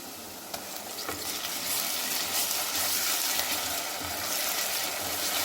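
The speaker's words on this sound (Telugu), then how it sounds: "అల్లం వెల్లుల్లి దీంట్లో ఫ్రై చేస్తాను" Ginger garlic paste frying in a pan for chicken curry, a steady close sizzle with faint stirring scrapes throughout, no voices.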